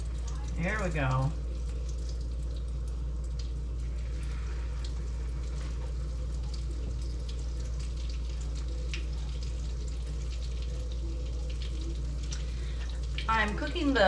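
Floured octopus pieces fry in hot oil with a steady, even sizzle that runs throughout, and a voice speaks briefly at the start and again near the end.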